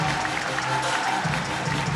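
Audience at a speedcubing world championship applauding, a steady broad patter of clapping filling a large hall, with faint crowd murmur underneath.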